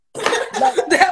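Several harsh coughs right after smoking, three close, loud bursts in quick succession following a moment of silence.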